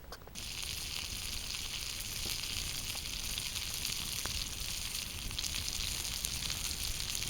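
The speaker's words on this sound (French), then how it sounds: "On a la petite poêle sur les braises. Il va mettre du beurre, le faire fondre." Butter sizzles and fries in a small pan over campfire embers, a steady crackling hiss that continues without pause, close up and with no voices.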